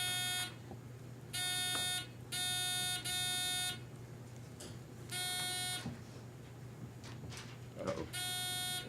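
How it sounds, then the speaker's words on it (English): Quiz bowl buzzer system being tested in a room, several loud electronic buzzes of about a second each, sounding one after another with short gaps and faint room noise between. "You will use the buzzer system to answer a question."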